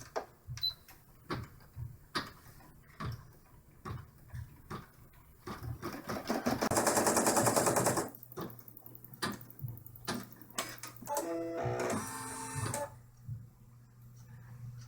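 A home embroidery machine sews placement stitches for the upper windows of an in-the-hoop dollhouse bag, making close, steady mechanical ticking bursts with brief pauses and a louder whirring run midway.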